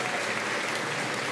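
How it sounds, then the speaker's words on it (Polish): Crowd at a rock festival meeting bursts into dense, steady applause, loud and sustained throughout with no voices over it. "wielkie brawa"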